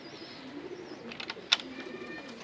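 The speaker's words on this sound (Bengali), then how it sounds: "তো ভিউয়ার্স দেখেন কবুতরগুলো, আর বাকি সব কবুতর ভিউয়ার্সে দেখেন এই খাঁচায় আছে" Caged pigeons give soft, low cooing in the background at moderate distance, with a faint whistle-like bird call and one brief sharp click partway through.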